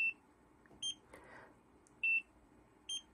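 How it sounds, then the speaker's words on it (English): A Nira precision laser skin device gives short, high electronic beeps, several brief tones spaced about a second apart, quiet and close in an otherwise still room. "Do you hear that second beep?"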